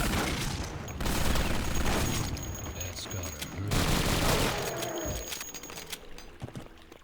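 Akimbo G18 pistols in Duke Nukem: Alien Armageddon fire in dense, rapid automatic bursts that run almost without a break, loud and close, with a few short pauses and echoing booms toward the end.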